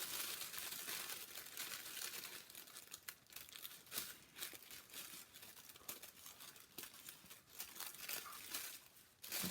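Tissue paper is ripped and pulled free from a mould, producing a continuous, close crinkling and tearing rustle with bursts of sharper rips throughout, with no talking.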